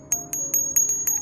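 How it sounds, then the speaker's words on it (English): Small metal garden bells topped with a dragonfly ring in a quick, regular series of bright, high chimes, clear and close, with no voices. "And I also like my bells here"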